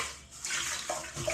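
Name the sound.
washing groceries under running water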